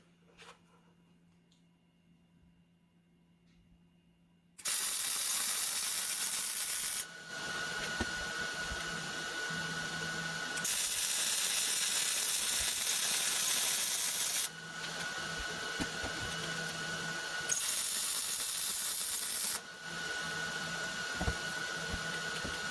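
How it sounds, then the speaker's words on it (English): Steel hay spear mounts being welded, a steady loud crackling hiss that starts after a quiet lead-in and runs in several long passes broken by short pauses. "now I'm just going to kind of finish these welds up"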